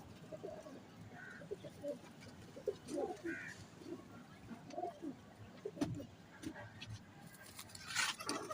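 A nine-year-old pigeon coos softly in low, rolling phrases that recur across the stretch, close by amid faint room noise and occasional light bumps.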